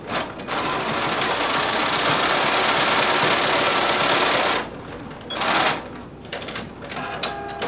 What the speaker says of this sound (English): we're going to sew along the short side using 5/8 of an inch seam allowance